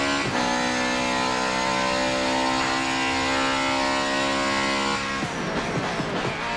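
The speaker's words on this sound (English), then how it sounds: "let's see what the 2017 Porsche 919 can do, whether it can live up to F1." A 2017 Porsche 919 race car in Forza 7 roars at a steady high pitch with dense layered harmonics, loud and close, before shifting and fading into a rougher, changing tone near the end.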